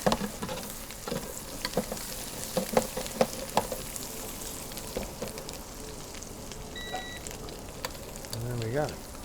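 Fresh cep mushrooms with chopped parsley sizzle steadily in a frying pan, with close scraping and clacking as a utensil stirs them around, continuing without pause.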